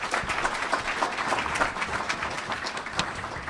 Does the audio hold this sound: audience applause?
yes